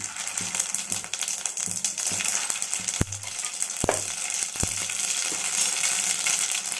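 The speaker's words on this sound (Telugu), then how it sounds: "సో ఆయిల్ వేడైపోయింది దీంట్లో మెంతులు జీలకర్ర ఆవాలు" Fenugreek, cumin and mustard seeds sizzle in hot oil as a tempering for a cluster bean curry, a steady close hiss punctuated by a few sharp pops and clicks, with no talking.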